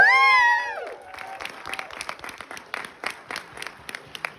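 A fan convention Q&A crowd with Ryan Lambert and Andre Gower: a high, bright shout of cheering opens, then thinner, scattered clapping carries on at moderate volume and gradually tapers.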